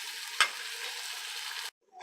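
Tomatoes sauté in a pan for village-style rasam, a steady, soft sizzle broken by one brief sharp scrape or stir, then cutting off abruptly into near silence.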